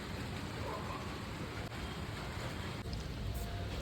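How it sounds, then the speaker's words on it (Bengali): Continuous rain falls steadily outdoors, a dense, even broadband wash with no pauses across the whole stretch and no talking. "সে আশা থেকেই দেখছি কন্টিনিউ বৃষ্টি পড়েই যাচ্ছে"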